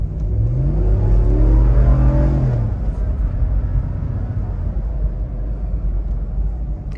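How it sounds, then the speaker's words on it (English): A 2022 Ram 1500 Limited Night Edition engine revs upward hard and loud for about two seconds, then drops back to a steady road rumble as the truck pulls away after a hesitation. "You punch it, the thing revs up, and then it kind of goes."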